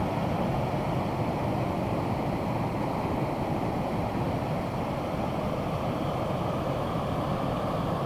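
Spring snowmelt water pouring over Barton Dam by the old Barton Mill, a continuous broad roar of rushing water that stays steady and loud throughout with no voices.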